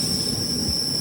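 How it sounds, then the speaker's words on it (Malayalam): Steady, loud metallic screech of train wheels grinding on rails as an Ernakulam to Barauni Rapti Sagar Express brakes after someone pulls the emergency chain, with a persistent high whine over low rumbling throughout. "ആരോ ചെയിൻ വലിച്ചു."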